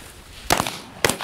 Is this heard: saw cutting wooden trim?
no